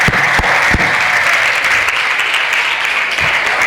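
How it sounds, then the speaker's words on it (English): Loud applause from a student audience at a motivational career seminar, applauding a student; a few sharp claps open into continuous, full clapping that carries through to the end. "Give a round of applause to him."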